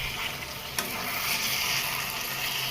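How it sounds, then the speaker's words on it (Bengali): Chicken and potatoes sautéing in a pan for a thin curry, giving a steady, close frying hiss with a faint stirring clatter and one brief knock, no talking. "আলু দিয়ে চিকেন পাতলা ঝোল করে আমি কষাচ্ছি"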